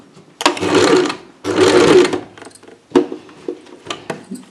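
A sewing machine stitching a frill sleeve runs in two loud, steady bursts of rapid stitching, then gives way to shorter, lighter clicks and knocks as the fabric is handled.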